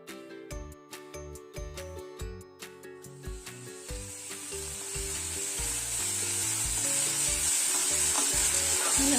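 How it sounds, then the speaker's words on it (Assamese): Spice masala for a dhaba-style paneer dish starts with several sharp metallic clinks of a spoon against the pan, then breaks into a strong, steady sizzle of frying that swells and holds, close and loud. "মছলাখিনিও ভালদৰে ফ্ৰাই কৰি ল'ব লাগিব"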